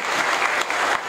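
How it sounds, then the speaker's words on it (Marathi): Crowd of guests at a kirtan applauding children's bhajan group, a short, loud, steady wash of many hands clapping together, with no talk over it. "या पोरांकरता जोरात टाळ्या वाजवा."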